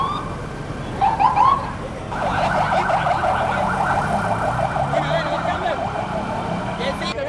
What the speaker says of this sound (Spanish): las sirenas de las más de 50 ambulancias que atendieron la emergencia